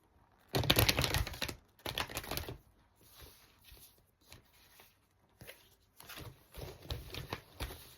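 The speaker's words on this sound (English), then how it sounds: "I'll put these cards back." Playing cards shuffled, handled and set back down, giving bursts of quick riffling and flicking with brief pauses and softer handling rustles between them, close and fairly quiet.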